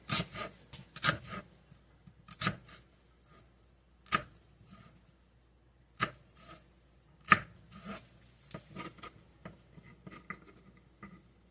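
Half a small onion is chopped finely with a knife on a board, producing sparse, sharp, close taps in loose clusters separated by quiet pauses, with no voices.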